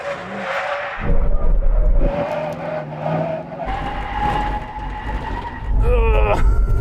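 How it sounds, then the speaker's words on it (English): Tesla Cybertruck and Ford F-150 Raptor R brake hard from 70 mph to a full emergency stop, with loud road and engine rumble and a tire screech near the end, under a spoken voice. "Now we have a brake test from 70 miles an hour. When we reach the line, full emergency stop."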